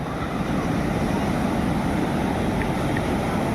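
Sea waves at Puri beach wash in as a steady broadband roar, with wind buffeting the microphone and faint voices somewhere in the background.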